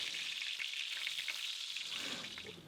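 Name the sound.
gluten-free chicken tenders frying in oil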